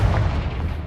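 A single deep, rumbling blast from the Confringo fire spell in Hogwarts Legacy, loud and close with a heavy low boom that fills the whole moment.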